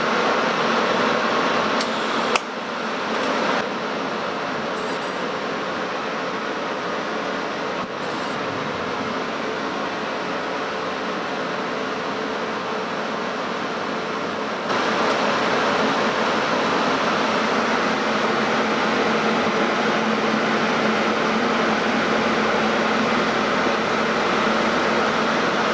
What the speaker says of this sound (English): Keeping the torch over the end of the weld to keep the gas coverage on it.